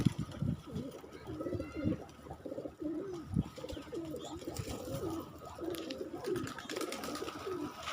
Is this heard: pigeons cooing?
yes